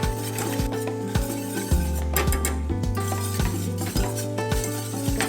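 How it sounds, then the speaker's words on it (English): A whisk scrapes and clinks steadily against a pan while peanut curry sauce is stirred, a rapid rhythmic metallic tapping heard up close, with faint sizzling beneath and no talking. "Turn the heat to medium, whisk together, and let the sauce thicken."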